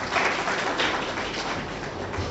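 An audience at a farewell party for retiring professor Dr Hameed Mohsin claps steadily throughout, a dense, even wash of applause from a roomful of people, with no speech over it.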